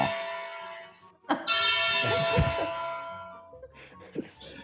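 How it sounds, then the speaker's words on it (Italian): A church bell tolls a death knell, one clear struck ring whose long shimmering hum fades out slowly, with a murmur of voices underneath and a second fainter strike at the end. "la campana suona a morto e suona per me"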